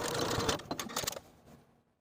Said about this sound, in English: we're going to sew along that upper pressed crease of the bottom hem